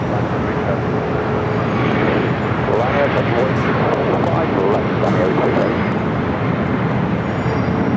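Airliner engines at Los Angeles LAX airport, a loud continuous roaring rumble that stays steady throughout, with commentary running over it.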